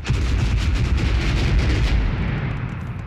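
A wall is blown open by an explosive breaching charge in the Arma 3 video game, in a 2004 Iraq combat setting: one loud, close blast with a heavy rumbling tail that fades over about three seconds, with no voices.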